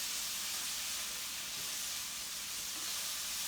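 Water hissing and steaming in a hot pan with asparagus, a steady broadband sizzle that holds close and even throughout with no pauses.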